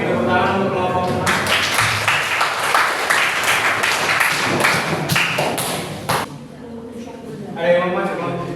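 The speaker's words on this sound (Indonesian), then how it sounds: "Beri tepuk tangan untuk kelompok menang." A classroom of students applauds the winning group, a dense burst of clapping and taps from about 1.3 to 6 seconds, with talk and voices before and after.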